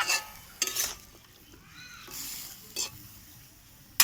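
Food frying in a pan is stirred, making a soft low sizzle broken by a few sharp scraping and clinking strokes of a utensil against the pan, close and without speech.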